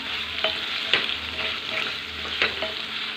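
Fried potatoes are stirred through a spice paste in a pan, with a steady close sizzle broken by several scraping spatula strokes, and no voices.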